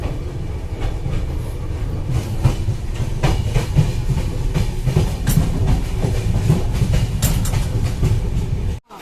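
Saraighat Express pulling into Bolpur Shantiniketan station, a continuous loud rumble of wheels on rails with rhythmic clacking and occasional hiss, close by.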